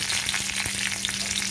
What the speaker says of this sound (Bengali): কালো জিরেটা একটু ভাজা ভাজা হয়ে গেছে, আমি দিয়ে দিচ্ছি কাঁচা লঙ্কা।